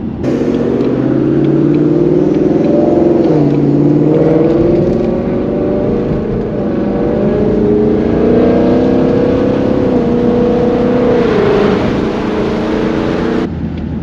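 A Ford Mustang set to drag mode accelerates hard with a loud, deep engine rumble that climbs and shifts steadily over the whole stretch, with no talking.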